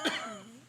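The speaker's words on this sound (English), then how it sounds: "That's little cough." A single short cough, near and fairly soft, standing alone without talk.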